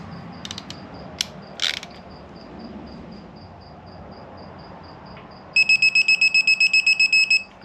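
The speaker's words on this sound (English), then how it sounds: "So set my torque wrench to 18." Torque wrench tightening bolts on a Jaguar AJ133 engine to 18 foot-pounds, a quiet ratchet clicking early on, then a rapid string of about a dozen bright clicks near the end as the wrench reaches its set torque.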